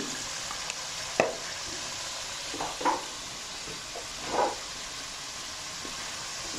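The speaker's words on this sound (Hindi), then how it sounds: "इसका अच्छा सा मसाला आपने भूनना है" Masala with turmeric frying for a goat trotter (mutton paya) curry, a steady close hiss with three distinct scraping stirs spaced a second or so apart, no voices.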